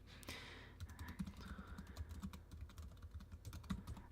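Typing on a computer keyboard, with fast, uneven bursts of soft close keystrokes that continue steadily without any voices.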